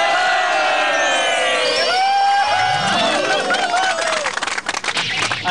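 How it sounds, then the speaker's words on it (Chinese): An audience erupts in loud applause and excited screaming as a race girl walks out at a motorcycle club event, cheering building toward the end with scattered claps and shouts. "掌声加尖叫"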